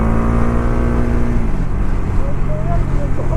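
Road traffic from a vehicle approaching ahead while riding, a steady loud engine and road rumble throughout, with a low drone that drops partway, amid chaotic motion noise and no clear speech.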